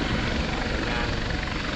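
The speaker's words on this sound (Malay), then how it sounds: "Ini unit udara helikopter ni yang berpangkalan di lapangan terbang Sultan Abdul Aziz Shah di Subang" A police air unit helicopter based at Subang airfield passes overhead during a maritime training exercise, its steady, loud rotor roar filling the clip without a break.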